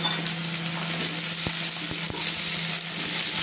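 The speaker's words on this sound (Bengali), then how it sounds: "আলুগুলো দিয়ে তারপর ভালো করে লাল করে ভেজে নেব।" Potatoes added to already-browned onions fry steadily in a pan for kashā ālur dam, a continuous close sizzle with a few sharp clicks of stirring and no talk.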